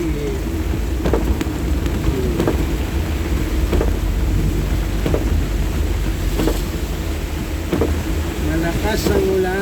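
Heavy rain pours steadily against a vehicle, with a low engine drone underneath and occasional sharp taps and thumps.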